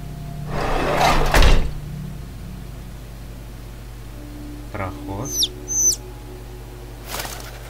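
Startled bird in a video game: brief sharp chirps and a flutter of wings in the middle of the clip, with low ambient game hum and other noises before and after, no one talking.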